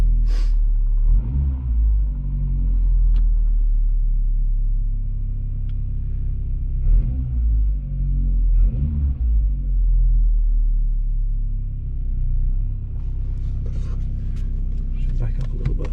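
A car engine idles and rumbles nearby after a head gasket change, a steady low drone with a few small clicks and bumps, while someone talks over it.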